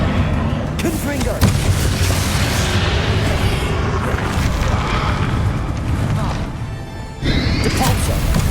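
The Confringo fire spell striking in Hogwarts Legacy amid a dense, continuous din of booming blasts, crashes and battle noise, heavy low rumble throughout with a brief dip near the end.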